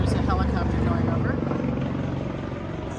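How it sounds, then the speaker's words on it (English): A helicopter passes overhead as a low, steady rotor drone with broad rumble, loud and continuous throughout, while people talk over it. "there's a helicopter going over."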